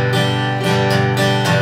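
Acoustic guitar strummed with a light pick held straight, several bright, full chords ringing one after another at close range with no talking.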